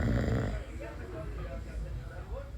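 A father snores while a baby sleeps beside him, with a deep, rough rasping breath that is loud at first and then settles into a quieter, steady drone.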